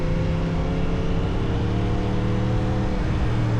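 A 2025 Yamaha R1 1000 cc motorcycle engine runs loud and close, a dense throaty roar with shifting harmonic tones as it revs, steady over a few seconds with no voices.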